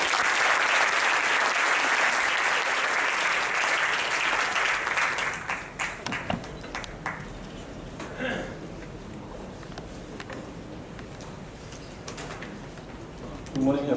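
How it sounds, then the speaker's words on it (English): Audience applause for a school principal at a student conference opening ceremony: dense, loud clapping for about six seconds, then tapering into scattered claps and murmuring. "Please give him a big round of applause"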